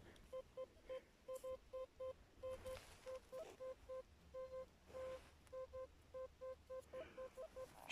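A metal detector gives a steady series of short electronic beeps, repeating rhythmically, some quick and some held longer, over faint rustling outdoor noise.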